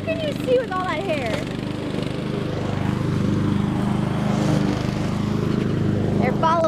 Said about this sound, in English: So we're mowing the lawn